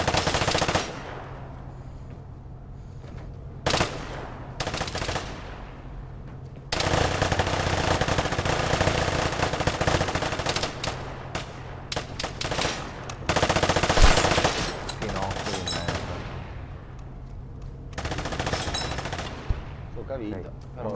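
Pump-action shotgun gunfire in the video game Vigor, loud sharp blasts in several bursts with quieter gaps between them, with occasional voice chatter.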